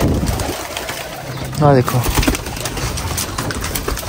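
Several high-class pet pigeons kept for sale give a short, throaty coo close by, rising briefly above someone talking over steady background noise.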